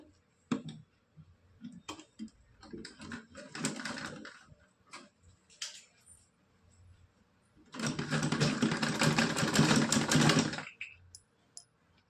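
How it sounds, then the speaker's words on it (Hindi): A sewing machine makes a straight stitch on a Laddu Gopal dress: scattered clicks and handling taps, then a short burst of rapid mechanical whirring lasting about three seconds, fairly quiet and close. "अब इस पे सीधी सिलाई लगा लेंगे।"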